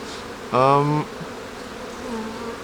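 Honey bees buzz around an open hive with brood boxes: a low steady hum, with one louder, close, half-second buzz as a bee passes near.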